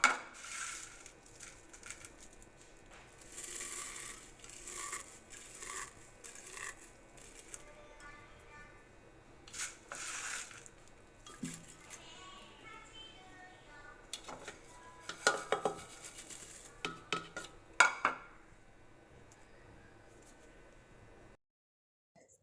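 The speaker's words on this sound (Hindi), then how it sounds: "मैंने कहा आप लोगों को दिखा दूँ उसकी क्रंच क्रंच की आवाज़ें" Crunchy fried ginger and garlic is crushed and scraped in a dish, giving repeated sharp crackles and clinks of utensil against the dish at close range, with brief quiet speech in between.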